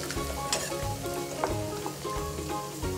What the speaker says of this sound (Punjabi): ਹਰੀ ਮਿਰਚ ਸਾਡੀ ਭੁੱਜ ਗਈ